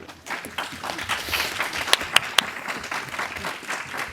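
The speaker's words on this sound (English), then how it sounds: "The first application that we've approved where the audience all applauded." An audience applauds at a Jersey City Cannabis Control Board meeting, a steady wash of clapping with a few sharp, close individual claps standing out partway through, and faint voices underneath.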